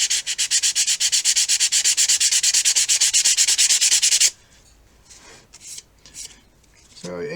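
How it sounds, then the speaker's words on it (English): Sandpaper rubbed rhythmically along the cardboard body tube of an Estes Magician model rocket, a steady series of quick, close scratchy strokes for about four seconds, followed by quiet handling sounds. "We're going to sand a little bit on the body tube."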